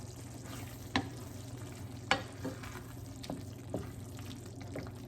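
A pan of sauce for spicy salmon simmers low, a quiet bubbling hiss beneath a few distinct spoon clinks and taps against the pan at irregular intervals.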